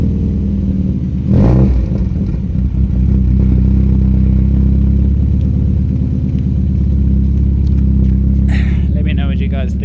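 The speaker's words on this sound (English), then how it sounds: "here is the sound of the car without the rear box." Modified Ford Figo with branch manifold and resonator, running with its rear exhaust box removed, a loud, steady, throaty engine drone with a brief sharp rev near the start and clattering texture throughout.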